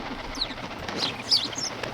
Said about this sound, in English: Chirping and fluttering, they alight among the ashes and began to pick and peck.